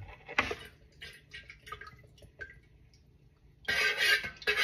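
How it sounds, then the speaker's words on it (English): Fragrance oil poured into hot melted wax for marbled wax melts: quiet small drips and ticks, then a louder trickling burst toward the end. "Pour my fragrance in immediately."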